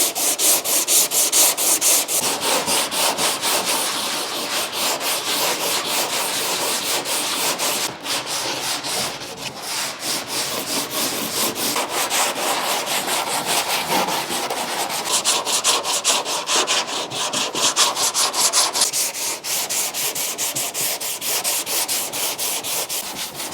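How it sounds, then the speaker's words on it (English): Continuous close rubbing and wiping as wax and grease remover is worked over the painted body of an abandoned Mitsubishi Lancer Evo 8, a steady scrubbing texture with slight rhythmic strokes and no voices. "Let me get her cleaned up with wax and grease remover."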